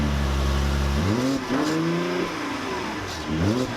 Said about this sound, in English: now that we've heard how the 3-liter bi-turbo V6 sounds